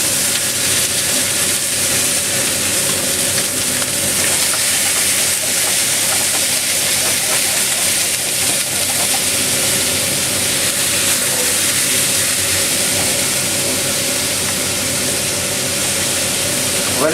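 Carrots and onions sizzle in a pan alongside meat, a loud, steady hiss that holds evenly for the whole stretch with no pauses or talk.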